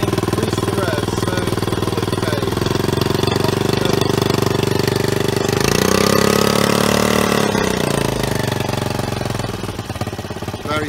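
A small Honda air-cooled outboard engine on a Jeanneau Sun Odyssey 36i sailing yacht revs up from a ticking idle, loud and close, its pitch climbing midway, holding, then dropping back toward the end.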